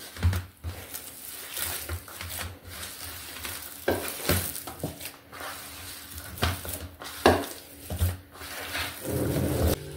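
Bottle gourd and rice flour vada batter being mixed by hand, with soft wet squishing and stirring strokes in irregular bursts, close and moderately loud, no talk.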